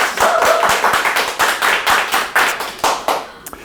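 Audience applause at a pharmacist's talk: a crowd clapping steadily in a dense, fairly loud burst that thins into a few scattered claps at the end, with no talking.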